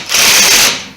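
A power gun driving a 3/16 Allen bolt while a small cup holder is installed: a loud, steady whirring buzz with mechanical ratcheting texture, running for most of the moment before tapering off, with no talk.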